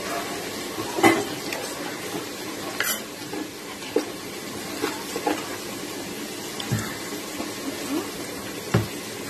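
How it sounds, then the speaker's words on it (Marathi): Chopped onions stir-fry in hot oil over a medium flame for a spicy crab curry, with a steady close sizzle broken by occasional sharp spatula scrapes and clinks against the pan. "एक 5 मिनिटं कांद्याला चांगला परतून घ्याऊया।"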